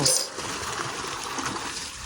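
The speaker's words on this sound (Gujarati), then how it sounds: "અને પાણી પણ ચાલુ જ છે જો ફર્સ્ટ ક્લાસ બરાબર જો" Tap water runs steadily while hands and feet are washed, a continuous close splashing hiss with slight surges of spattering throughout, with no voices over it.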